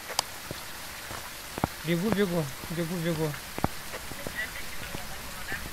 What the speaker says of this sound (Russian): Тут такой дождь, я не слышу ничего.